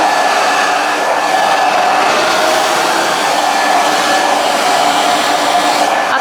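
A hair dryer blows continuously while hair is styled into a spaniel in-curl, a loud, steady rushing whir with no breaks.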